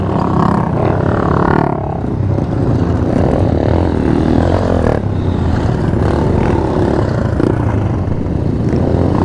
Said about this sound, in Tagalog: Dirt bike, oh.